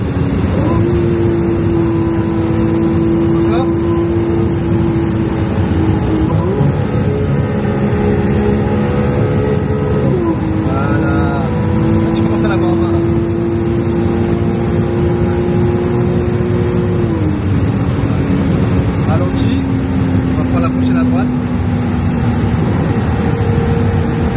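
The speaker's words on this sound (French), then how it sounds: "le moteur, il gueule plus" A Ferrari 296 GTB with a hybrid V6 revs hard on the road, its engine note climbing and dropping through several gear changes over a steady drone, with people talking inside the car.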